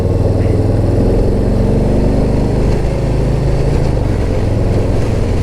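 A 2021 Harley-Davidson Softail Standard motorcycle pulls away in second gear at about 30 mph on an open road, its engine rumble climbing under loud wind rush, close and continuous.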